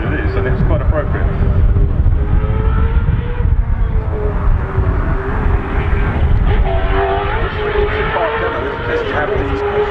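A Toyota Tundra NASCAR truck on demonstration laps at Goodwood Circuit, its engine a loud, sustained roar with shifting pitch as it passes, continuous and close for the full ten seconds.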